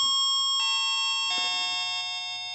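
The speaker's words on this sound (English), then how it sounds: "That's for a doorbell." Electronic doorbell chime from a Siemens SAB0600 chime chip, ringing as sustained bright tones that step to a new pitch when the button is pressed, then hold and slowly fade, loud and close with no talk.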